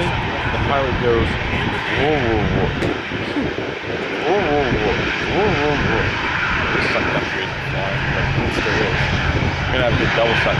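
Airplane engines at Minneapolis airport rumble and whine steadily throughout, loud and continuous, while people talk over the noise.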